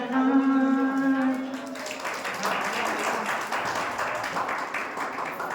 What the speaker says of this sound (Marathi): टाळ्या पण थोड्या कमी वाजतात